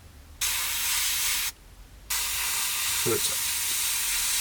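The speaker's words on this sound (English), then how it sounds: "it's just spraying all the parts that the undercarriage, including the wheel hubs" Humbrol enamel paint sprayed from an airbrush onto undercarriage parts, wheel hubs and forks of a Kinetic Harrier GR3 scale model kit: two steady bursts of hissing spray separated by a short pause, close and fairly loud, with a brief spoken word.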